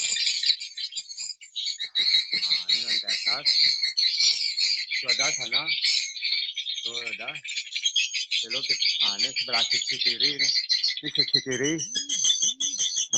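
Dense, shrill chirping of many swiftlets fills the upper floor of a swiftlet house continuously, while someone talks intermittently over the constant high-pitched chatter.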